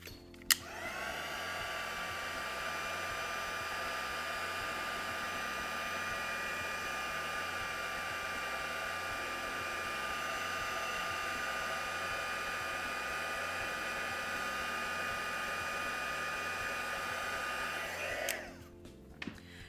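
A heat gun blows with a steady, loud whirring hiss for nearly twenty seconds while melting embossing powder, then clicks off near the end.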